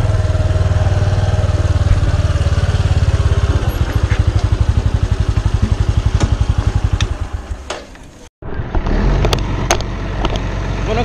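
A motorcycle engine putters in a rapid, even chug, then cuts off abruptly; after a brief silence, louder rumbling noise resumes.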